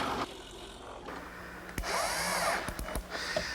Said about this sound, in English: I'm starting to form the mortises in the legs here by using a 1-inch flat bottom bit called a Forstner bit